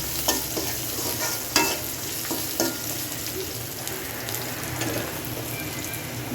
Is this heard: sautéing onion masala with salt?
yes